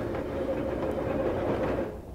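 Train running in the video game PARASiTE FLOWER, a steady low rumbling roll with faint rhythmic clatter, continuous and close for about two seconds before easing slightly.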